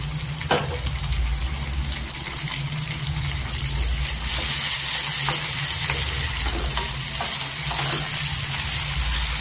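Tomatoes sauté in a pan for soybean pulao with a constant sizzle over a low background hum. A few clinks of stirring are heard, and midway the frying grows noticeably louder and hissier.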